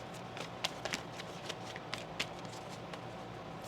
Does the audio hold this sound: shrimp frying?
no